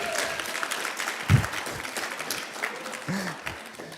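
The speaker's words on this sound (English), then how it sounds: "Can we just give a big round of applause to Chloe Cartledge, who is doing everything?" Applause from an audience, fairly soft and steady throughout, with a few low bumps breaking through the clapping.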